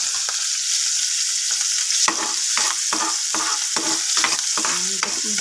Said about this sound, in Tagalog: igigisa muna natin yung ating pork stick